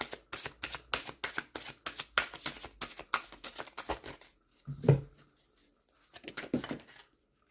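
Oracle cards shuffled for a card reading, a rapid flurry of close crisp riffling slaps, a brief pause with a soft thump, then another short burst of shuffling.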